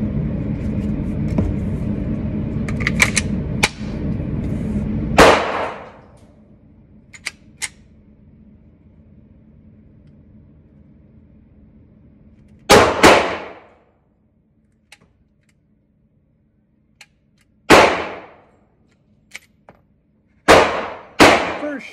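An FMK 9mm pistol fired fresh out of the box: sharp, loud single shots spaced irregularly, one after a stretch of earlier noise and then several more with long quiet gaps between them, the last two fairly close together.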